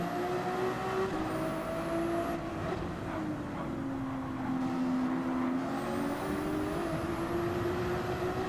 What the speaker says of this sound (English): look at Ferrari go